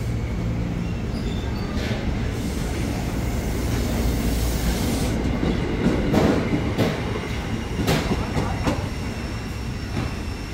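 A KRL JR 205 commuter train passes through Bojong Gede station with a steady loud rumble of wheels on track, rhythmic clicking over rail joints and occasional squeals throughout.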